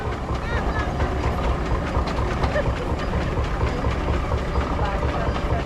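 A 1912 J.A. Case 75 horsepower steam traction engine runs at a thresheree parade, giving a dense, continuous mechanical chugging and clatter with a steady rhythm. Voices talk underneath it.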